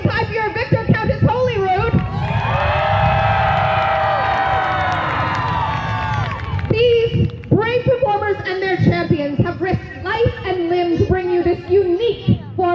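A crowd at a Renaissance festival cheers for a performer, a dense swelling roar of many voices in the middle, framed by a loud announcer's voice before and after.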